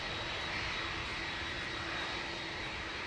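Fixed-wing airplane engine at Dublin Airport, a steady, broad roar with a faint high whine held throughout, moderately distant and unbroken, with no voices over it.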